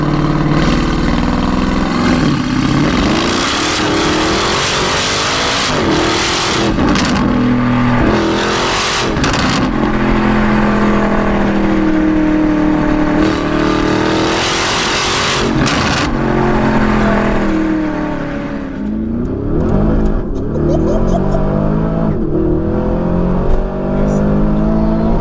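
Porsche Cayenne Turbo GT engine revving hard and pulling through rising, falling gears, loud and close from inside the car, with repeated surges and shifts before it eases near the end; voices talk over it.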